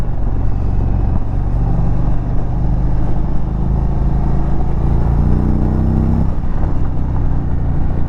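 A 2023 Indian touring motorcycle on the road, a steady loud engine drone with wind rush, the engine note shifting pitch around six seconds as the rider eases off and picks up again.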